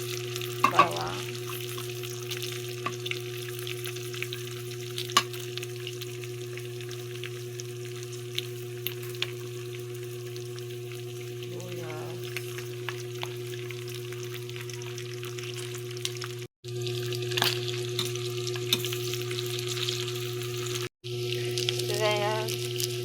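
Garlic frying in oil in a pan for pork humba, a steady continuous sizzle with a persistent droning hum running underneath throughout, and a few faint knocks.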